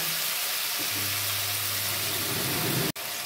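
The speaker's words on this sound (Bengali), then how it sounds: "দিয়ে ভালো করে আমি এখন এটা নাড়াচাড়া করে নেব" Chopped tomato and green chilli being stirred into a hot pan for a home-style kabuli chana curry, with a steady close sizzle throughout and a single sharp knock near the end.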